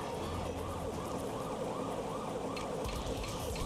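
Siren-like warbling alarm from the Sonic Adventure DX video game, a steady rising-and-falling wail repeating several times over a dense game soundscape, moderately loud and continuous with no speech.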